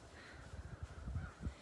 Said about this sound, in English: I can hear the crows, too.